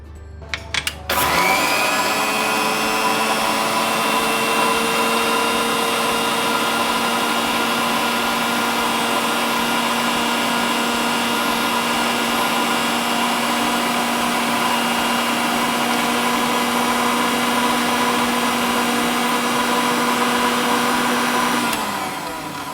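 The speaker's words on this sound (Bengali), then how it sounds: "চিনিটাকে ভালো মতো করে পুদিনার সাথে ব্লেন্ড করছি" A kitchen blender whirs at full speed, grinding sugar with mint leaves, starting after a brief click and holding a loud, steady high-pitched motor drone for about twenty seconds before cutting off.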